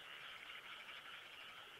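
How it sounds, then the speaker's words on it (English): Distant cicadas droning in the background of Persona 4 Golden, a faint, steady high-pitched buzz that holds unbroken throughout. "This actually sounds like cicadas."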